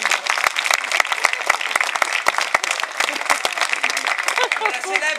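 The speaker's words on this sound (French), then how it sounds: "On applaudit Pierre Raymond" A tour group claps for Pierre Raymond, a character on an offbeat guided visit in Lyon's Croix-Rousse district, the applause steady and fairly close, with voices talking over it.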